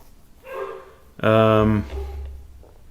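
A dog barks indoors during a chess game: one loud, strongly voiced bark in the middle, framed by softer whining vocal sounds before and after.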